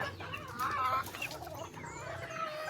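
Pet chickens clucking close by in a backyard coop, with several overlapping calls and short clucks over a steady low background noise.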